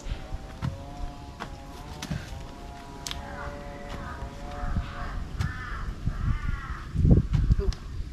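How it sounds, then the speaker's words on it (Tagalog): Several harsh crow caws ring out at intervals over outdoor background noise and scattered voices, moderately close. "Uwak nga ni, uwak."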